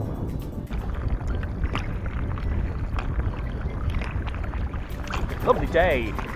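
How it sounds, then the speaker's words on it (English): Steady water and wind noise from a small boat on open water, with rhythmic splashing of paddle strokes; a brief whistle-like sound near the end. "Lovely day for a paddle out on the lake."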